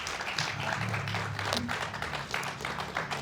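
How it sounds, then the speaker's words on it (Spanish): An audience at a tribute to Jorge Ibargüengoitia breaks into applause, a dense crowd of hand claps heard close and steady throughout, with a few voices mixed into the clatter. "Así que yo voy a pedir otro aplauso para Ana"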